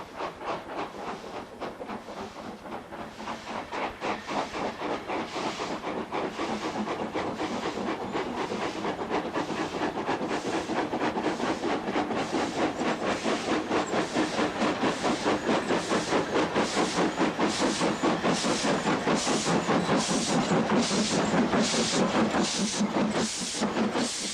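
Steam locomotives 5775 and 48431 chuff loudly as they pull away from Keighley station, the heavy rhythmic exhaust beats steadily quickening, with hissing steam and rail clatter and no voices.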